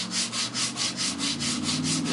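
A surface is scrubbed by hand with 80 grit sandpaper in quick, even back-and-forth strokes, a loud close rasping whoosh repeating about four times a second, with no one talking.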